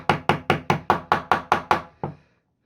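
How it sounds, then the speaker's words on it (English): A small hammer knocks a pin out of a Peugeot/Citroen key fob: nine sharp metallic knocks in a steady, quick rhythm, each ringing briefly, then after a short pause one final, slightly softer tap. "then we'll just knock that pin out now with the little hammer"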